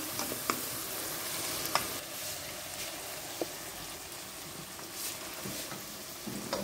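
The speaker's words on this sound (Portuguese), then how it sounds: "vai continuar mexendo" Pasta sauce with chicken thighs being stirred in a pot: a soft, continuous bubbling hiss with a few scattered light clicks of the utensil, fairly quiet and without talk.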